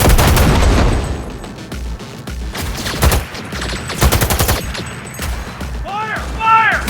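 Close-range gunfire in Cyberpunk 2077, with rapid bursts and sharp reports in a loud, busy fight, plus booms and electronic chirps, partly under talk.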